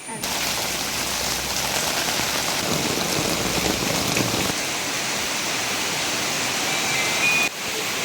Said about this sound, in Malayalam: മഴയും പെയ്തു തുടങ്ങിയതാ